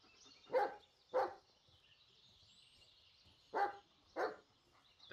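A dog in the Blair Witch video game gives four sharp, separate barks in two pairs, moderately close, with a quiet gap between the pairs and no talking.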